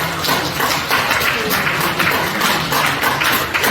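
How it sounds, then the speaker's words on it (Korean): Loud, dense applause from a seminar audience in a hall, many hands clapping continuously and evenly throughout, close and filling the room. "다시 한번 박수를 부탁드립니다."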